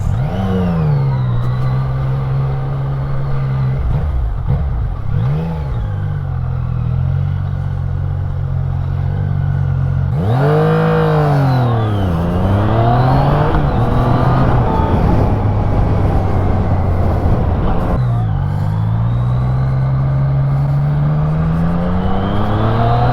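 A Yamaha MT-09 motorcycle engine pulls hard while riding, rising revs sweeping up through several gear changes with brief dips between, loud and close over steady wind roar, no voices.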